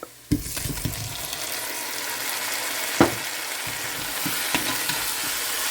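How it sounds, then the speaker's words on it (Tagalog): Chicken pieces brown in a hot pan with garlic, frying as a continuous sizzle broken by a few sharp clacks and stirs, close and fairly loud, with no talk. "Brown lang natin ng konti. Ayan. Chicken pieces."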